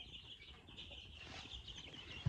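Chicks give soft clucking calls inside a barn, a few faint, brief chirps over steady background noise, ending in one short bump.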